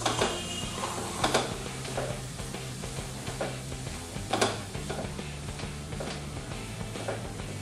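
Rice tipped onto a tawa of mixed vegetable butter pulao sizzles steadily, with scraping stirs and clinks of a utensil against the pan, close and continuous without talk.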